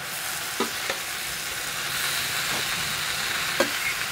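Sanai flower greens tipped into a hot garlic and chilli tempering and stirred: a steady close sizzle of frying with a few soft scraping stirs of a spoon against the pan, no talk.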